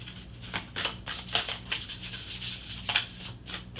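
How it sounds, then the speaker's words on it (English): A tarot deck shuffled by hand in short, rubbing bursts of card against card, close to the microphone and moderately quiet, over a faint low hum. "One more shuffle here."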